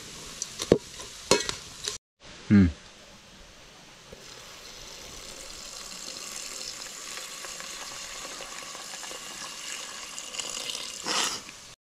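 Water splashes into a pan of Maggi noodles being cooked outdoors near a temple, followed by a long, steady sizzling hiss as it is stirred, with a few clanks at the start and a louder scrape near the end.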